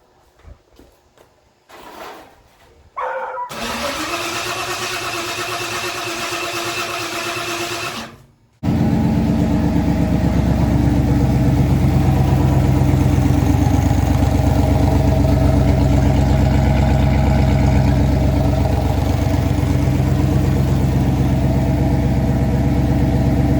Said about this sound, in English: Put it back together. Motors together. We'll go ahead and crank on it. First start.